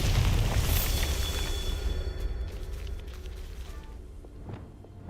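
A Bombarda explosion spell in Hogwarts Legacy bursts with a loud, rumbling boom that decays slowly over several seconds, with faint debris and footsteps trailing behind.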